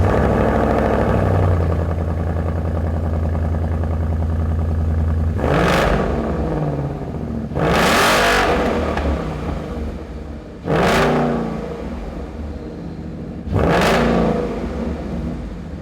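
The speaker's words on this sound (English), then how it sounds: "We're gonna fire it up, we'll show you how the Roush exhaust sounds." A Ford Mustang GT fitted with a Roush axle-back exhaust starts with a low idle rumble, then gives four sharp, loud revs spaced a few seconds apart, each rising and falling back to a burbling idle.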